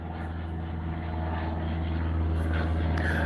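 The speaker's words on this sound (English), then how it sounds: "And look, there they go with the airplanes." Propeller airplanes pass overhead, a steady droning roar that swells slightly toward the end, heard outdoors without talk.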